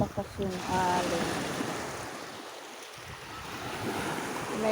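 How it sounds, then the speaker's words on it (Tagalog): Strong sea waves wash onto a beach in the afternoon, a steady broad surf roar with wind buffeting the microphone throughout, close by and fairly loud. "Malakas yung alon."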